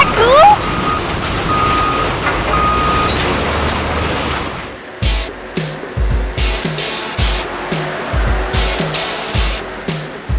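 A big dump truck fitted with a weighing scale in its bucket rumbles heavily nearby, then gives way to a run of rhythmic thumping, clanking bursts with faint beeping over a low engine drone.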